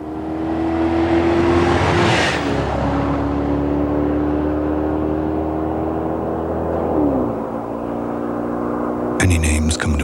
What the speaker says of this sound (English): Imagine for a moment a performance car. One with a 4-cam, 32-valve, 250 horsepower V8.